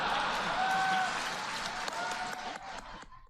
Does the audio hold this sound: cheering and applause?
yes